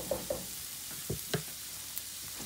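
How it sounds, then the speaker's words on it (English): Onions cook down in a pan with a soft, low sizzle and a few distinct pops and stirring clicks spaced through the moment. "Let our onions cook down."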